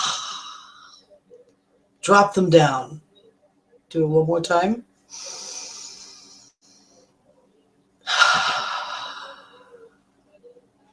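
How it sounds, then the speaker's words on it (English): Slow, deep breaths in and out during a guided relaxation exercise: long, loud airy exhales and inhales alternate with pauses, and an instructor's voice speaks between them. "Now take a deep breath again."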